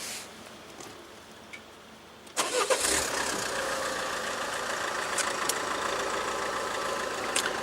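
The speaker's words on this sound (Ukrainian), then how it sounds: "Зараз треба запустити автомобіль, бо вімкнувся режим економії енергії." Peugeot 508 car engine starting: quiet cabin, then a sudden crank and catch about two seconds in, settling into a steady idle close by.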